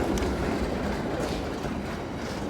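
A tram passes on a Helsinki street, a steady loud rumble of wheels on rails with faint squeals above, filling the whole stretch without speech.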